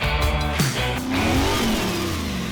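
A modified 2002 Pontiac Trans Am with an aftermarket LS V8 revs loudly close by, the engine note rising and swelling through the rev with a steady deep rumble underneath.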